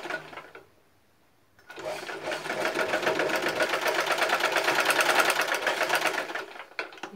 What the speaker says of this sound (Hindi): इसी में मशीन को उल्टा करके इसको इस प्रकार से करके कपड़ा को सीधा वापस और सिलाई लगा दें।